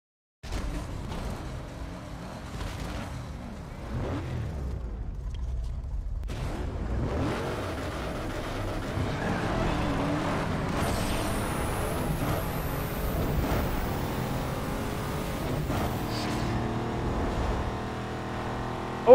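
A Hummer H2 with a 6L V8 and stage 3 turbo kit revs hard in a Need For Speed Underground 2 drag race, its engine climbing through gears with sharp shift breaks, loud and continuous, no talking.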